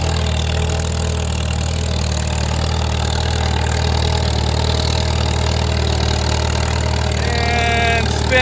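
A Farmall M tractor drags a disc through wet, muddy ground, its engine droning steadily and loudly up close with a constant low rumble throughout.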